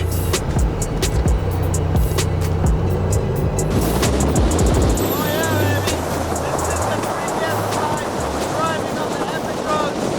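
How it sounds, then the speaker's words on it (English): An Audi RS6 Performance drives hard, its deep engine drone dropping abruptly to a new pitch about halfway through as a gear changes, all under heavy, constant wind buffeting. "Heard the gear shift?"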